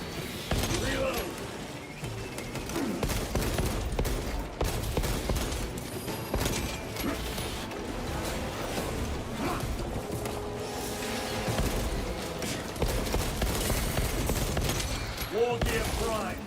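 Gunfire crackles through a video game firefight in Space Marine 2, with dense bursts and shots layered over busy game sound effects and scattered voices, loud and continuous throughout.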